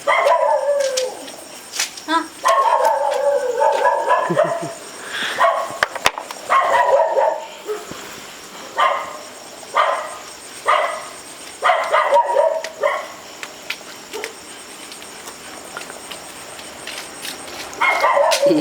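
Several dogs bark repeatedly in bursts, some yelping and howling, moderately close, with short pauses between volleys.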